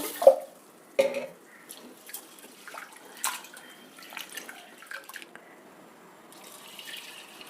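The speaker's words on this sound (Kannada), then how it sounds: "ಮೊದಲಿಗೆ ಹೆಸರುಬೇಳೆನ ಚೆನ್ನಾಗಿ ತೊಳಿಬೇಕು ಒಂದೆರಡು ಸಲ ಚೆನ್ನಾಗಿ ತೊಳೆದ್ಬಿಟ್ಟು" Moong dal is rinsed in water in a kitchen, with close splashes, swishes and drips, two sharper sloshes early on and lighter trickling afterward.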